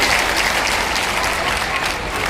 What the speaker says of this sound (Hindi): जरा जोरदार ताली तो आपकी बजनी ही चाहिए